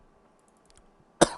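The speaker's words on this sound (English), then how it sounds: "Coughing." A single sharp cough bursts out near the end, close and loud, after quiet room tone with a few faint taps.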